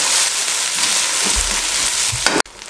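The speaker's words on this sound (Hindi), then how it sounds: "ये एक मिनट हम इसमें भूनेंगे मीडियम फ्लेम पे" Rice grains and cumin fry in a pan over a medium flame, giving a loud, continuous sizzle with stirring scrapes and a brief clatter before it cuts off.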